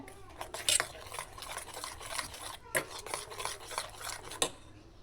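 Close spoon or whisk scraping and tapping in a bowl as cupcake batter is mixed with vanilla essence and baking soda, a steady run of quick stirring strokes with a few sharper clinks, moderately quiet.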